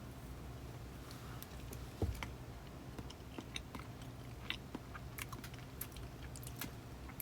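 Cheesecake being chewed close to a microphone during a live stream, with soft, irregular wet mouth sounds and small clicks over a steady low background hum, with no talking.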